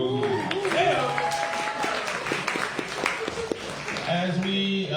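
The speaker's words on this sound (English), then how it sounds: "another round of applause for Emma Rose." Audience applause at an open mic evening: a room full of people clapping steadily for several seconds, close and full, with some cheering and voices mixed into the clatter of hands.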